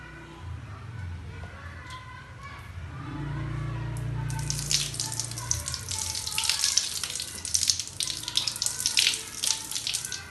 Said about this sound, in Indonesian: Cuci tangan di 7 langkah di bawah air mengalir.